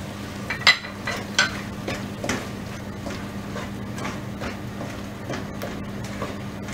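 Pureed tomato for pav bhaji, with red chili powder, salt and pav bhaji masala, cooking in a pan: a steady low bubbling under scattered sharp spoon clicks and scrapes near the start, no voices.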